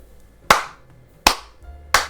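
Three sharp, isolated hand claps, close and loud, spaced unevenly less than a second apart in an otherwise quiet room.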